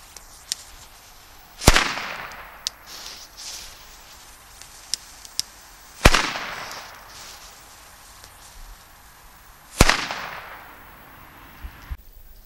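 China firecrackers bought at Aldi go off outdoors in three loud, sharp bangs spaced a few seconds apart, each with a brief echoing tail, and faint small clicks and pops between them.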